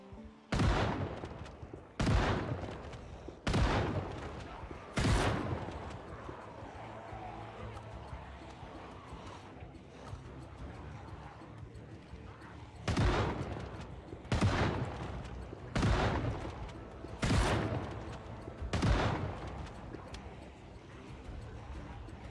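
Shotgun blasts firing into a zombie horde in the video game Project Zomboid, a loud close series of single booms, four in a quick row, then a pause, then five more evenly spaced.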